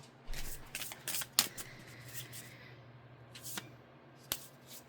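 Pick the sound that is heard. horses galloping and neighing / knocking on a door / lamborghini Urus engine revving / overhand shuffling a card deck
overhand shuffling a card deck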